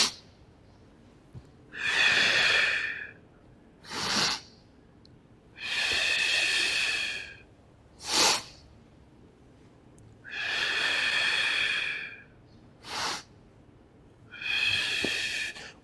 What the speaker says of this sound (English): breathing out, breathing in, breathing out.